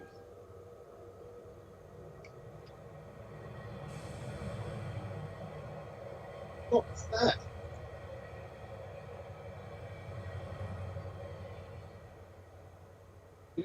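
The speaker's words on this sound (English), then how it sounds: "It's a train." A train passing at a distance, a low steady rumble that swells and fades over about fourteen seconds, with a few brief sharp squeals near the middle and a voice briefly speaking.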